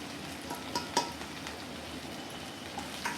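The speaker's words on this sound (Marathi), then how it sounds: "थोडं टमाटो टाकूया, परतून घेऊया." Tomato and asafoetida sautéing in oil in a pan for a tindora (ivy gourd) sabji, a steady soft sizzle with a few light clinks of the spatula against the pan.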